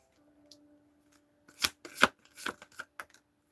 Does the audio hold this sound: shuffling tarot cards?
yes